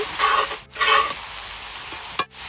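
Chicken cooking with coriander powder in a pan over a medium flame, stirred in two scraping sweeps over a continuous sizzle, close and clear, ending with a brief clink of the utensil.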